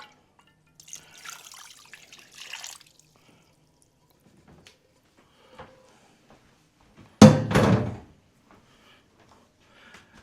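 Brine is poured and swirled over salmon pieces being prepared for smoking. A short, fairly loud splashing gush comes after a long quiet stretch that holds only faint earlier trickles and handling noises.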